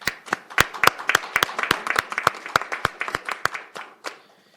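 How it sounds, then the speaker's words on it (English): A small council chamber audience claps after a proclamation is adopted on a unanimous vote, sharp distinct handclaps in a steady patter that thins out and fades toward the end. "Please join me in a round of applause."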